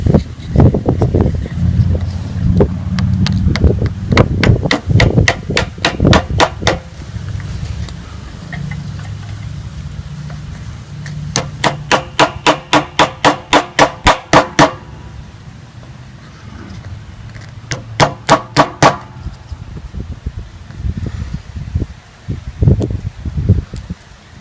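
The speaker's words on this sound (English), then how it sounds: "with the block of wood, go ahead and hammer it in." A pistol sight on a Smith & Wesson M&P Shield driven into its dovetail by hammering on a block of wood: bursts of rapid, sharp taps in quick runs, close and loud, with handling rustles between.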